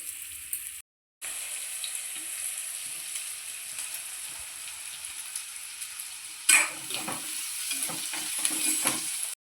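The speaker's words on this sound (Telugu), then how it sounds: "ఉల్లిపాయలు వేగుతాయండి" Onions frying in a pan for a fish curry: a soft, continuous sizzle with a brief silent break near the start, then louder stirring clatter and crackle toward the end, close and without speech.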